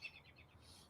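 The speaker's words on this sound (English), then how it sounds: "Oh, we got a Robin." A robin chirps a few short, faint calls in a humid backyard, soft and a little distant against light background noise.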